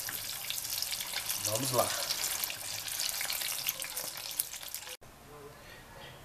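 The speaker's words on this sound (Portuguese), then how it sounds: "finalizamos a fritura das nossas pimentas" Stuffed peppers fry in hot oil, giving a steady, dense sizzle throughout at close range, with a voice briefly heard over it.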